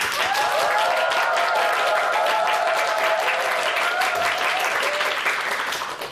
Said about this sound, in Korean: 본격적인 강연은 박수로 함께 하도록 하겠습니다